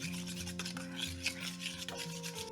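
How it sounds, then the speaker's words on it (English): A spoon rubs and scrapes steadily through pork chop marinade in a bowl, a close, continuous rasping stir with a faint steady tonal hum behind it. "Stir this all together until the color turns brown."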